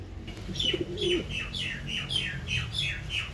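Pigeons call in a rapid repeated series of short chirps nearby, with a soft low coo underneath and steady background noise.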